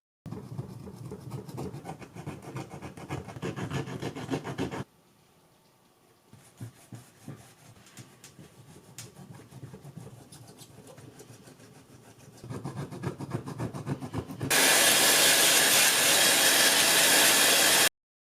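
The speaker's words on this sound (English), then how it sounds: "I also removed the remains of the stick-on foam on the battery cover just to make it cleaner." Old stick-on foam being scraped off the battery cover of a 1985 Casio AS-20 keyboard amplifier, close raspy rubbing strokes in bursts with pauses, ending in a loud steady hiss, no talk.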